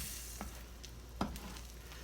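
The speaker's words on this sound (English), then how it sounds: "I added a little butter to the pan so it could cook" Butter sizzling in a frying pan while making French toast, a soft continuous crackle with a couple of faint clicks, quiet and close with no voices.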